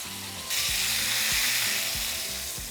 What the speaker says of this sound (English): Now we're going to sear that side for another 3 to 4 minutes.